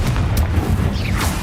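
The Confringo explosion spell in a wizard video game sets off a loud, booming blast with a heavy low rumble that fills the short moment.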